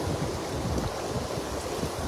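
Strong wind roars and buffets steadily against the microphone, a constant low rush with no voices.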